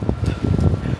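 Low, blustery wind buffeting a microphone in snowy New York City, rumbling and gusting steadily through the whole moment with no voices.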